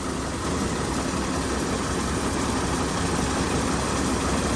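A rice harvester's diesel engine drones steadily and loudly at close range as the machine drives off from a paddy field, a dense constant rumble with no pauses or voices.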